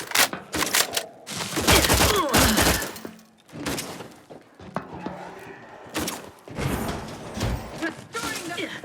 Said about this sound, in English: We are shooting down to stop them.